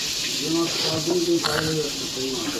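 Fighting fish frying in a pan, giving a continuous close sizzle and hiss while people talk over it.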